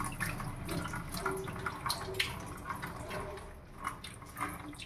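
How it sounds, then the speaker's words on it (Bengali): Lentils are rinsed in water by hand, with steady splashing and trickling, a few brief splashes standing out, fairly faint and with no speech. "এই যে দেখেন আমার ডাল ধোয়া হয়ে গেছে।"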